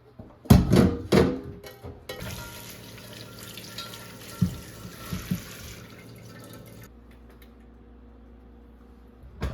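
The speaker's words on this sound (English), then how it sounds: "I'm gonna give them a little rinse while I'm filling up the pot of water." Tap water runs into a pot at a kitchen sink while peeled potatoes are rinsed, a steady splashing rush lasting several seconds, broken by a few louder clunks of the pot before the flow shuts off.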